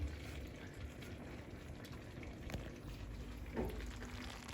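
A steady, low bubbling simmer of dried eggplant and pepper dolma in a pot, still boiling after the heat is turned off, continuous and close, with no voices.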